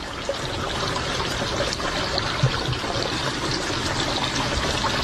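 Continuous rushing and trickling water pouring into a sinking car, steady and fairly close, with a faint splash or two partway through.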